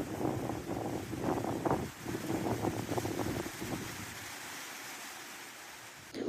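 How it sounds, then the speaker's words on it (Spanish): Strong wind buffeting the microphone alongside rising ocean waves on a coast, a continuous loud roar with surging swells, fading slightly toward the end. "El intenso viento es más que evidente. Observe cómo incrementa el oleaje"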